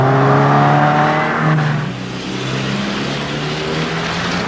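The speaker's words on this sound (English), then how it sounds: "release the emergency brake and accelerate" A car accelerates out of an emergency-brake bootleg turn on a 1980s U.S. Army tactical driving course, a loud close engine roar rising then easing into a steadier drone.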